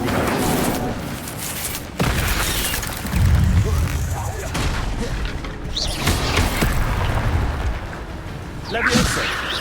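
In a Hogwarts video game, the Incendio fire spell is cast amid dense, loud booms, whooshes and crackling effects that continue throughout, mixed with game music and voices.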